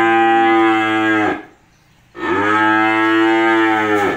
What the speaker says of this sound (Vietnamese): Cặp bò này thì còn bú nha anh em.